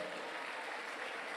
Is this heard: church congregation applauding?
yes